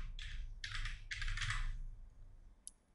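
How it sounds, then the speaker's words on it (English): Typing on a computer keyboard in bursts of rapid clicking key presses, three close clusters followed by a pause and a single sharp click, heard alone and close up. "So I'm typing forever."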